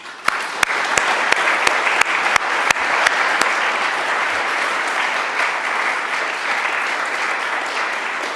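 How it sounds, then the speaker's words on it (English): Courtroom audience claps in steady applause after a historical case reargument, a dense patter of many hands filling the room, with a few sharp claps standing out early on. "Ms. Sullivan, Mr. Abrams, will you join with me in extending a round of applause?"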